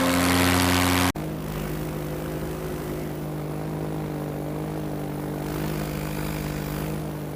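A small propeller aircraft climbs after takeoff. Its engine drones loudly and steadily behind a brief burst of harsh wind rush at the start.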